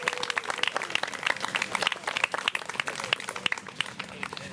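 A crowd at a city ceremony honoring high school varsity boys basketball teams claps steadily, a dense patter of many hands close and loud, without speech.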